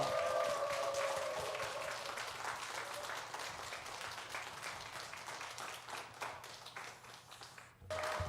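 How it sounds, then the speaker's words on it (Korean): A church congregation applauds during a Sunday worship service, a dense, steady wash of clapping across the room that runs continuously and fades slightly near the end. "박수 치신 분들에게 하나님이 만복의 은혜를 허락하시기를 감사합니다"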